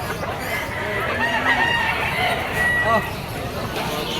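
At a busy gamefowl market, a bull stag rooster crows a few drawn-out calls over a murmur of people talking nearby.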